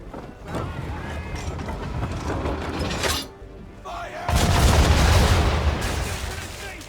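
Naval cannon fire from a sailing warship in Assassin's Creed III, with rumbling blasts and crackling debris spread through a busy battle soundscape, pausing briefly before a louder sustained barrage.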